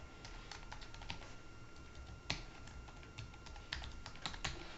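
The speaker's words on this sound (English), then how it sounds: "you want to type in your URL here" A computer keyboard clatters with steady, fairly quick keystrokes as a web address is typed, close up over a constant background hiss with no talking.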